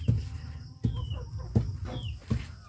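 A native chicken clucks nearby in short, sharp bursts, four or five clucks spaced steadily apart with faint chirps between them.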